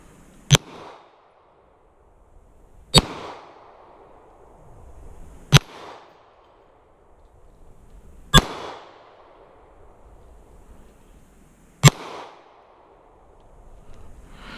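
A Wilson Combat Centurion Tactical pistol fires sharp, loud single shots with short echoing tails, five of them spaced a few seconds apart, with no talking.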